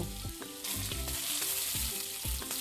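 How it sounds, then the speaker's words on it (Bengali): Bitter gourd slices frying in hot oil give a loud, continuous sizzle, with a few knocks and scrapes of stirring and no voices. "এই ফাঁকে উচ্ছেগুলো ভেজে নেব"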